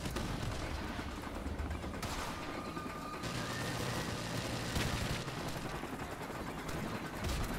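Rapid automatic weapon fire rattles in Modern Warfare Remastered, dense continuous bursts with short breaks and booming hits mixed in, loud and close.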